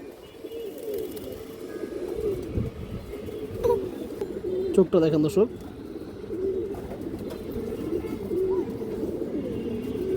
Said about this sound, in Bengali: এই যে পেয়ারটা হাই কোয়ালিটি দর্শক বাঘ এবং বেজি কবুতর